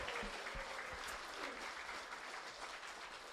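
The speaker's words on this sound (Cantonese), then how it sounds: "Let's give a round of applause to everyone." A church congregation at a summer camp closing ceremony claps together in dense, steady applause, moderately distant and even throughout.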